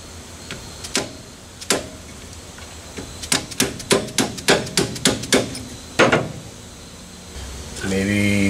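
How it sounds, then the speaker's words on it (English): A hammer drives a punch against heavily corroded brake parts on a Pontiac Vibe GT, giving sharp metallic strikes, first sparse and then a rapid run of about eight even blows, close and loud, ending in a mechanical rattle. "So, need a little hammer and a punch."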